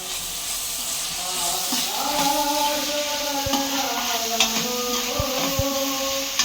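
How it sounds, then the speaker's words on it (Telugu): Ginger-garlic paste sizzles and fries in a hot pan of softened onions for mutton curry, stirred with steady scraping, close and continuous with occasional sharper utensil knocks. "ఇప్పుడు ఇందులో ఫ్రెష్గా ఊరుకున్న అల్లం వెల్లుల్లి పేస్ట్ వేసుకుందాము వేసుకుని ఒకసారి మిక్స్ చేసుకుందామండి"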